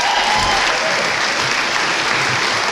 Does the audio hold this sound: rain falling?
no